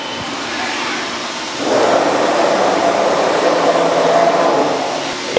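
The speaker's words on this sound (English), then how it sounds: "The last step is to run our machine through the entire X, Y, and Z axis." A Haas SR-100 CNC sheet router moving through its X, Y and Z axes during routine maintenance, a steady close whirring drone that swells louder partway through and holds, with no talking.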